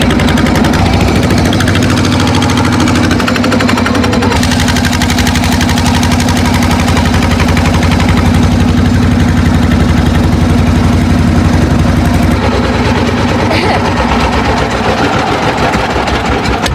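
A trawler's engine drones steadily at sea, a loud, continuous low throbbing hum that runs throughout with a slight change in tone near the end.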